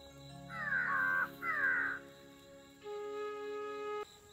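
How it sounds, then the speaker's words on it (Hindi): Crows caw from a tree near a hillside home in the morning. Two loud, harsh bursts of cawing come close together, followed by a steadier tonal call, with no voices. "आज ना सुबह सुबह यहाँ पे बहुत सारे कौओं की आवाज़ आ रही है"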